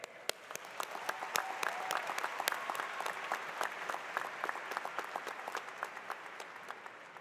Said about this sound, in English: Give a round of applause to the parental figures here.